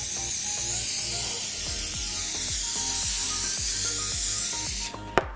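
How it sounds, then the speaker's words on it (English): A long, steady hiss of olive oil sprayed from a spray bottle over chopped butternut squash, continuous for about five seconds, then a short clatter at the end. "I'm going to give it a good generous spray of olive oil."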